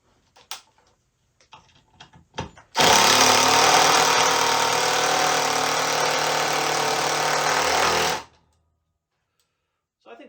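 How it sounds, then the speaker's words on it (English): An older Ridgid 18-volt impact driver runs in one loud, sustained burst of about five seconds with a rapid hammering buzz, preceded by a few brief handling clicks and knocks. "So now let's try it on this older rigid 18-volt tool."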